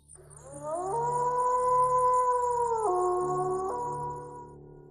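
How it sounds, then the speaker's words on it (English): Dingoes, Australia's native wild dogs, howl at Melbourne Zoo in Parkville, Victoria, several long wavering voices overlapping in a sustained chorus that rises, holds and slides down in pitch, close and loud with no talk. "My exploration begins with Australia's iconic dingoes, often referred to as the country's native wild dogs."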